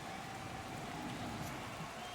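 Rain falls on the track in the Golden Lap racing video game during a wet race: a steady, soft hiss of rainfall, quiet and unbroken, with a faint thin tone running underneath.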